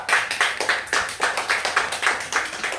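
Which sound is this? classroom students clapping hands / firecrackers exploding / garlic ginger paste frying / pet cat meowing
classroom students clapping hands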